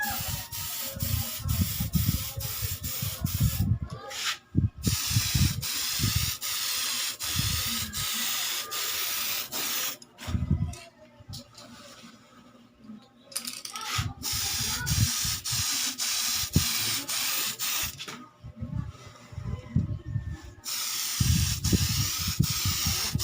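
Tamiya spray paint clear coat hissing from an aerosol can onto a Tamiya Lunchbox RC body, a close, loud spray in several long bursts separated by short pauses, each pass a steady broad hiss.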